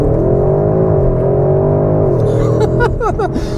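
A 2021 Porsche Cayenne Turbo GT in Sport Plus mode launches hard under launch control. The engine roars loudly and continuously, its pitch climbing steadily, then dipping briefly at a gear change before rising again.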